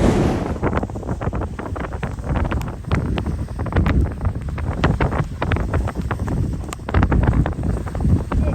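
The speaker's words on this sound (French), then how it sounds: "Et avec le vent, je peux vous dire qu'elle fouette la pluie." Strong wind buffets the microphone in Torres del Paine park with rain falling, a constant roaring gust broken by irregular hard rattling hits, loud and close with no talking.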